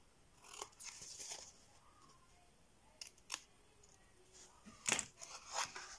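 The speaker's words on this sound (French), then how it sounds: "On coupe les angles là" Scissors snipping the corners of scrapbooking paper: a few short, crisp cuts close by, some in quick pairs, separated by quiet pauses.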